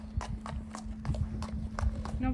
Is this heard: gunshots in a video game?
no